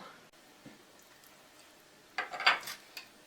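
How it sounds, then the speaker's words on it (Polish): White sausage added to a pot of simmering broth gives a few soft splashes and clinks against the pot, with a cluster of louder knocks near the end over a quiet background. "teraz do wywaru dodaję białą kiełbasę"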